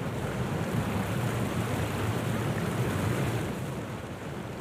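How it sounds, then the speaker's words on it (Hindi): Strong stormy wind roars steadily over the sea, a continuous loud rushing with surf-like wash underneath, with no speech over it. "बहुत तेज हवा चल रही है"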